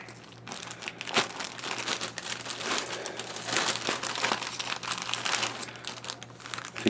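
The cardboard box and plastic packaging of a Roland A49 USB MIDI keyboard are opened, giving continuous close crinkling and crumpling with occasional tearing and crunching, fairly quiet, with no one speaking.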